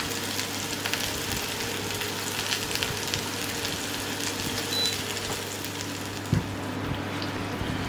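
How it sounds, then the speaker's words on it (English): Steady sizzling of duck browning in a hot frying pan, a continuous crackle with one brief clunk near the end. "in a frying pan, 4 or 5 minutes just to get things browned off on the bottom"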